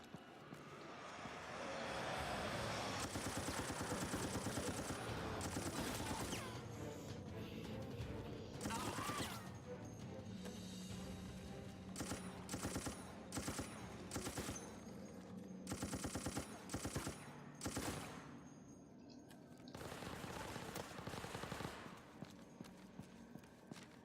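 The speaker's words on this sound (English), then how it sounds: "Some of the weapon noises aren't actually that bad." Weapons fire in the shooter Resident Evil Operation Raccoon City: rapid rattling bursts of gunfire and mechanical clatter come in uneven volleys, with loud stretches broken by brief gaps.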